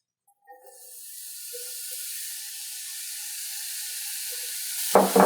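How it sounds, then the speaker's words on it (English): Chopped white button mushrooms hit hot oil, a steady loud sizzle rising after a few soft drops and continuing evenly, with a brief clatter near the end. "So I'm going to go right in our oil."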